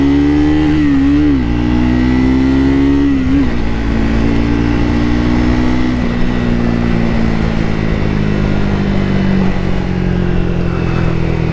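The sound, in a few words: single-cylinder motorcycle accelerating hard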